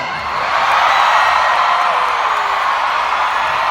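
A large concert crowd screams and cheers in a loud, sustained roar that swells early and holds steady throughout, with high shrieks layered over the wash of voices.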